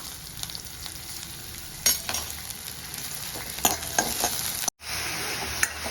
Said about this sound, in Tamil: இப்போ இஞ்சி பூண்டு பேஸ்ட், பச்சை மிளகாய் எல்லாத்தையும் போட்டுக்கலாம்.